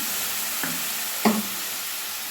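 Spice paste hisses in hot oil with a steady, close sizzle throughout, broken by two brief knocks of a utensil against the pan.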